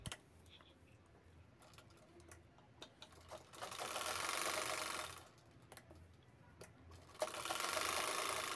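A sewing machine stitching a round shape along the side of fabric for a sling bag lining, two bursts of fast steady whirring stitching separated by quiet pauses with small clicks, close and moderately soft.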